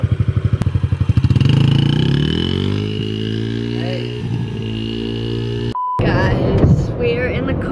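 A motorcycle engine revs close by, its pitch rising through a gear and then settling, with clattering and a short burst of talk near the end.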